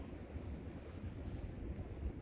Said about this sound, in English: it's blowing quite hard from the west